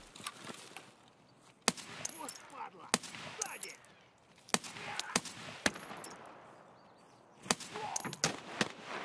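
Scattered gunfire in Escape from Tarkov's Woods map: sharp single and clustered shots, some near and some more distant, spread irregularly across the scene, with talk mixed in.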